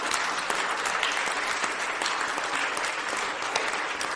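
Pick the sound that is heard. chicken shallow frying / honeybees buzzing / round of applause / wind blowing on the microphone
round of applause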